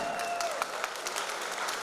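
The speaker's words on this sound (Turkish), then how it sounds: "İki çiçeğimiz için alkışlar gelsin" Wedding guests clapping together in a hall, a steady dense patter of many hands sustained throughout at moderate volume, with a faint tone running underneath early on.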